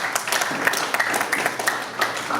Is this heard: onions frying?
no